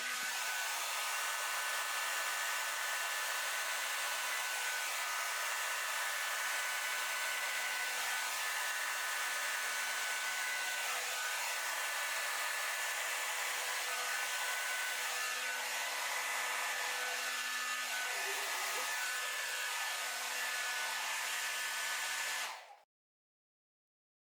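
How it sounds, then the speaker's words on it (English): A hair dryer blows steadily and loudly on wet paint for over twenty seconds, then cuts off abruptly. "take my blow dryer and try and hit this again"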